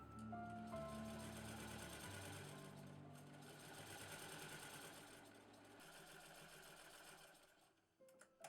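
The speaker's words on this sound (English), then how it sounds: "My antique machine makes minuscule stitches that keep the seams strong" Antique sewing machine stitching bodice seams for a Regency summer dress, a faint steady whirring hum running continuously, then stopping near the end with small clicks.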